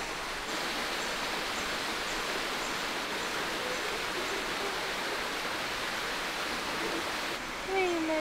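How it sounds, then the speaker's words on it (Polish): Small, modest waterfall in the Philippines, giving a steady, even hiss of falling water that runs continuously. A faint voice and a short tonal sound come in at the very end. "przed nami piękny, choć niezbyt obfity wodospad"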